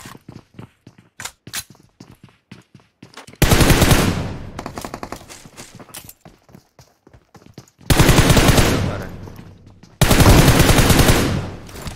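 Gunfire in PUBG Mobile, with scattered single shots and footsteps, then three loud bursts of sustained automatic fire separated by quieter gaps.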